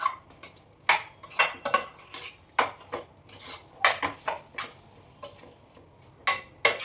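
A spoon mixing crunchy cauliflower pickle in a dish, making a rapid irregular series of sharp metallic clinks and scrapes, close and fairly loud, with no voices.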